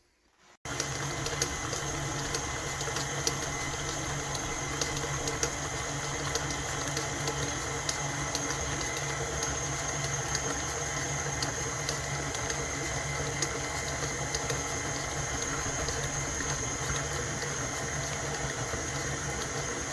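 Electric mixer beating banana nut bread batter: a steady, close motor whir with a constant hum that starts abruptly and runs unbroken, alone without talk.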